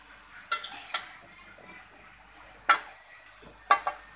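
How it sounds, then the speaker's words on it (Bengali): Bottle gourd is stirred in a cooking pot, giving a few separate spoon scrapes and clinks against the metal at close range, with quiet pauses between them. "ভালো করে নেড়ে চেড়ে দিব।"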